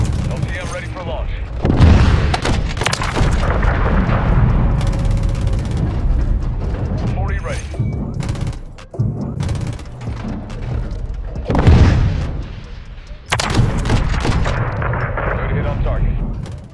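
Swarm killstreak from Call of Duty MW3 unleashes a dense, continuous barrage of loud overlapping explosions and booms, with brief lulls before new waves of blasts roll in, and a voice talks through it.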